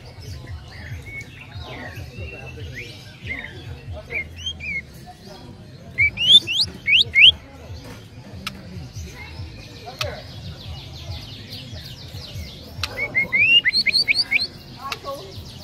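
A canary sings bright, rapid trills and chirps among other busy birdsong, with loud high bursts standing out near the middle and end over a low background hum.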